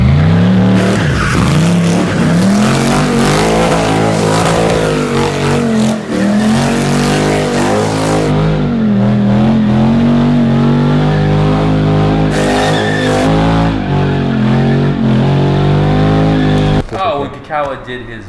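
A car doing donuts with tires squealing continuously and the engine revving hard, loud and close throughout, with people's voices mixed in under the roar before it cuts off near the end.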